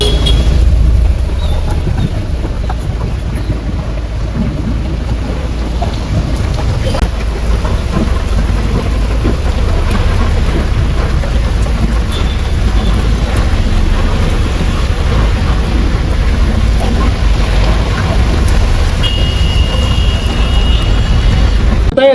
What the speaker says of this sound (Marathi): अशा प्रकारे विजांसह पाऊस झाला आहे.